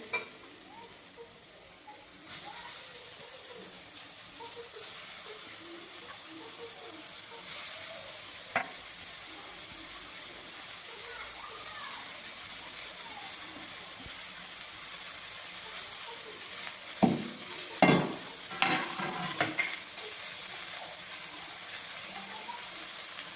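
Bathua greens go into a pan of fried potato and eggplant, bringing a steady sizzle and hiss along with occasional scraping stirs and a few louder clatters of the spatula. No voices are heard.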